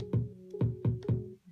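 Korg Electribe synthesizer in keyboard mode playing four repeated chord stabs in an even rhythm, each a bright sustained harmonic tone with a short attack, close and clear with no talking.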